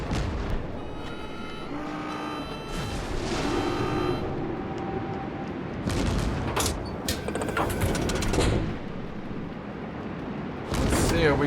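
Naval gunfire and torpedo hits in World of Warships played with an Isokaze destroyer: repeated booming blasts and crackling explosions in bursts over a steady engine and sea rumble, with a toot-like horn.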